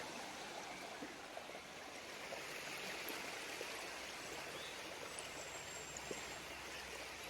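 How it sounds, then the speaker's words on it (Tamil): Crystal-clear stream water flows steadily nearby, a continuous broad rushing hiss with tiny trickling splashes, fairly quiet and unbroken with no talking. "பின்னாடி உங்களுக்கு வாட்டர் சவுண்ட் கேட்குதா?"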